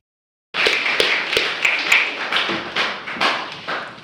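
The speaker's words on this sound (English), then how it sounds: "that's a great round of applause for Chris Wood" Audience applause at a 30th anniversary community gathering in Amherst, starting abruptly after silence with sharp, close individual claps forming a moderate, uneven round that gradually thins out.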